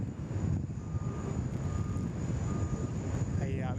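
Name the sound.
Airbus A380 departing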